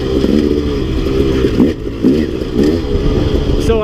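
A KTM 300 two-stroke dirt bike engine runs close by, its loud, continuous buzzing drone rising and falling through several short revs.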